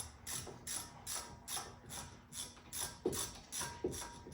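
A ratchet wrench turns the brake caliper bolts on a 2012–2020 Ford Focus, giving a quiet, even train of clicks at a steady rhythm, close up.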